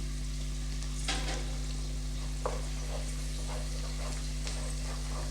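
Coriander powder stirred into a frying pan with a low steady sizzle, a few soft scraping strokes and light taps standing out over a constant electrical hum.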